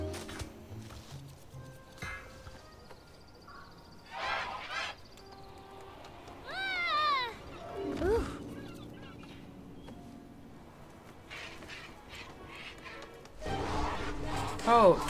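A cartoonish bird squawks and honks in the adventure game Broken Age, with loud rising and falling cries bursting out in several separate flurries over game music and background noise, and a voice speaking in places.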